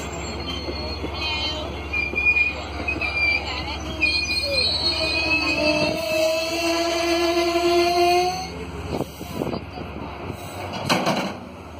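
A long freight train rolls past in cold weather, its wheels squealing in high, sustained whines over the steady rumble of railcars, loud and close, with a child and adult briefly talking nearby.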